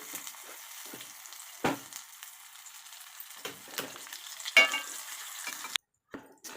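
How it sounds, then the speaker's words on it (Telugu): Quiet sizzling in a pan as raw tomato chutney is stirred into tempering, with scraping stirs and a few sharp clanks of a spoon, close by, with a brief silent gap near the end. "పోపు మంచిగా వేగిన తర్వాత ఈ పచ్చడిని దీంట్లో వేసుకోవాలి"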